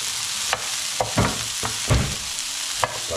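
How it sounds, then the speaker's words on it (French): Onions cooking with duck confit in a pan sizzle under a low, steady hiss, broken by several sharp clatters of stirring and a lid at irregular intervals; nobody speaks. "Là on a mis les oignons, on mélange, et on va baisser le feu pour pas que ça crame."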